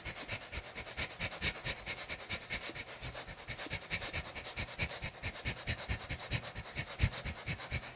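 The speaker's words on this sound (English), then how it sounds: "Now go into very light breathing, where you're actually almost like panting lightly from up in the higher chest." Light, rapid panting breaths from the upper chest, a fast even rhythm of short airy huffs repeating close and clear with no talking.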